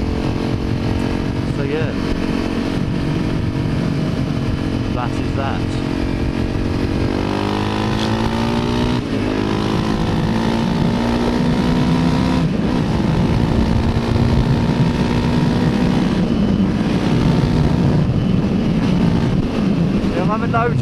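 A Honda CRF250L motorcycle's single-cylinder engine drones loudly while riding, its pitch rising and falling with throttle changes under steady wind noise, with brief talk from the rider over it.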